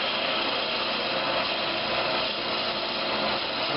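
Forstner bit boring into wood to a marked depth while woodturning a rolling pin, a steady continuous whirring roar of the spinning lathe and cutting, close and unbroken, with no talking.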